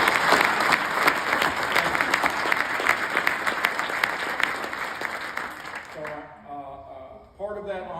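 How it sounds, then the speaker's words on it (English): An audience at a hall of fame ceremony applauds veterans with loud, sustained, dense clapping that fades out, followed by a voice speaking. "Let's give them all a round of applause."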